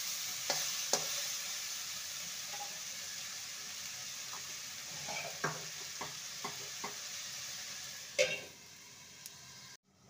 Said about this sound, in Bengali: ভালো করে নেড়ে নিয়ে লো টু মিডিয়ামে রেখে ঢাকা দিয়ে লাউটাকে হতে দেব।